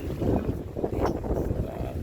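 Cold, dry wind blows outdoors at an outdoor event in Texas, buffeting the microphone with a steady low rumble and gusts, loud and continuous with no talking.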